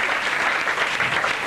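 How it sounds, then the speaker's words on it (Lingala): Sustained applause from a congregation at a church seminar, many hands clapping in a steady, full patter throughout, with faint voices mixed in. "Acclamons très fort"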